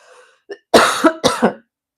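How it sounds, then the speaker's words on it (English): Two or three harsh, close coughs in quick succession following a brief throat sound, loud and isolated against silence. "I'm just going to cough just one sec."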